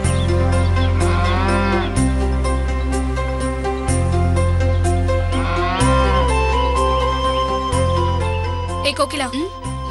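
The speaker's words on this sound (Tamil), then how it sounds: "மாடு பசியில கத்துது, அதுக்கு தீவனை போடணும்" A hungry cow moos loudly in a couple of long, drawn-out calls, heard over continuous background music in a Tamil TV serial farm scene.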